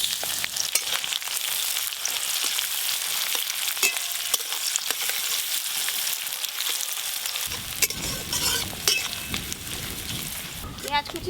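Chopped onions dropped into hot mustard oil in a wok, at first light crackling with a few metal clinks and stirs, then a sudden loud, steady sizzle as they fry close up.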